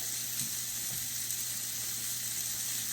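Steady, close sizzling of beef searing in a pot with Worcestershire sauce for a hearty stew, an even crackling hiss throughout with faint pops.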